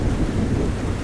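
Heavy rain pours down in a thunderstorm with a deep, continuous rumble of thunder, a dense, loud wash of sound throughout.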